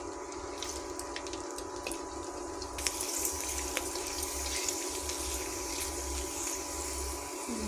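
Papads deep-frying in hot oil make a steady, soft, close sizzling hiss over a low constant hum, with no voices.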